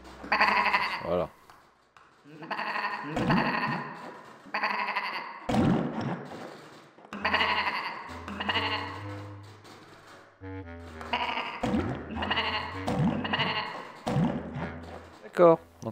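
Repeated sheep bleats from a video game, with tonal calls sounding over and over along with taps and thuds from the game.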